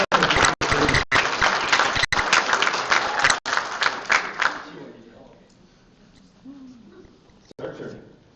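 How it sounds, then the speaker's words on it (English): A room full of people claps loudly for a group's top leaders, dense applause lasting about five seconds before tapering into a quieter room with faint murmurs. "give our top leaders a round of applause."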